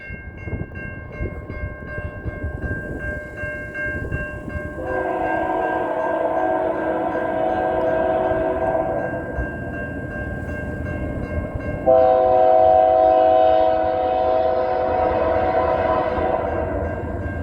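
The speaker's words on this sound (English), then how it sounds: "we got a westbound train coming down the line" A heavy CN potash freight train rumbles past close by at a road crossing in Newtonville, Ontario, its multi-tone horn blaring steadily over the rolling noise, growing louder midway through.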